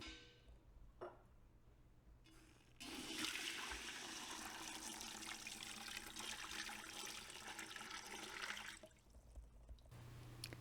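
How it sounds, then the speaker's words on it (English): Running water from a well pours steadily into a metal Presto pressure canner pot for several seconds, a rushing, splashing flow that starts abruptly and stops near the end. "you want to make sure that you fill your bottom container to the fill"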